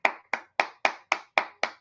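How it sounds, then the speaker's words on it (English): A single person clapping seven times in a steady, even rhythm, each clap crisp and close with a short decay, during a live reaction to a Tampa Bay Buccaneers at Detroit Lions football game. "Let's give it a round of applause, man."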